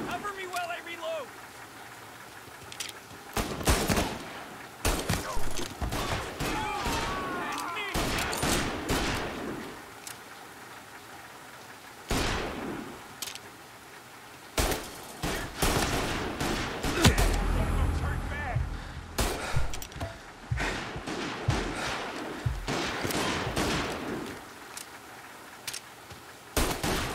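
Gunfire in the video game Mafia: Definitive Edition, with sharp shots and rapid bursts going off in uneven volleys, loud and close, while voices talk over parts of the action.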